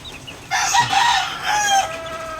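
A sweater hen clucks with her chicks close by: a short cluck, then a loud, drawn-out squawking call, with faint peeping in the background.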